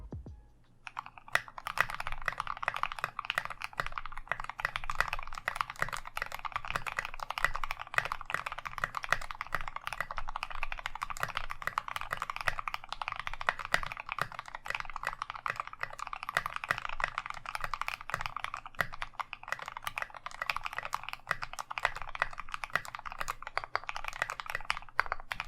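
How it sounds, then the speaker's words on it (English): Steady, brisk typing on a Moontower keyboard with SA profile keycaps and a polycarbonate case produces dense, close, thocky keystrokes with no talk. "I think that the SA keycaps make Moontower sound amazing, so please enjoy the sound test."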